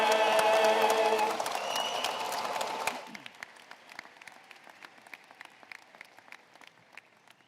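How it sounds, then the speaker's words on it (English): A high school graduation crowd applauds loudly after the national anthem for about three seconds, then the clapping thins to scattered individual claps that continue sparsely. "How about one more round of applause?"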